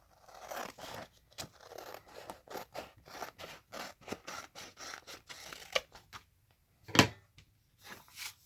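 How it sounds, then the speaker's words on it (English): Scissors snip through a plastic laminating sheet in a quick run of close, crisp cuts, with short pauses and a sharper rustle of the sheet near the end. "And then cut a laminating sheet to size."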